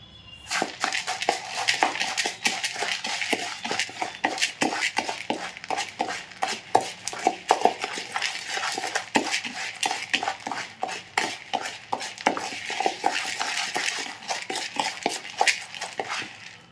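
Fried chana dal being tossed with chaat masala and red chilli powder, a dense run of quick scraping and clinking strokes of spoon against vessel, steady and close, with no talk.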